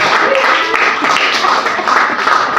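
Church congregation clapping hands together in a steady, continuous patter, fairly loud and close, with a few voices murmuring underneath throughout.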